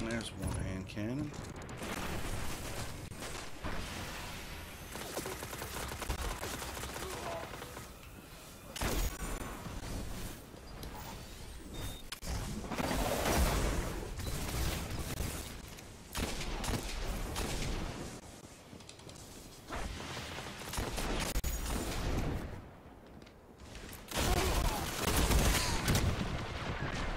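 Destiny hand cannon gunfire with heavy, repeated shots in bursts, mixed with mechanical clicks and reload sounds. The firing is loud throughout.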